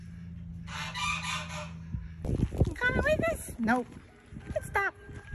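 A rooster crows loudly and close by, its rising and falling call coming in bursts, mixed with a person talking and some clucking from the flock.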